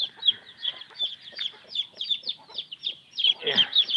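Newly hatched chicks peep in quick, high, repeated chirps, close by, with a brief louder flurry of calls toward the end.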